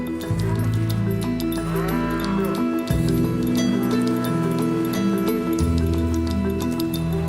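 Ankole cattle moo repeatedly in a loud, close herd, the low drawn-out calls overlapping and continuous throughout.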